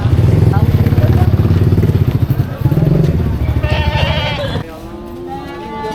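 Goats bleat close by in rapid, wavering cries over a steady engine drone, with people talking nearby at a livestock trading market.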